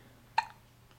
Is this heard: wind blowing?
no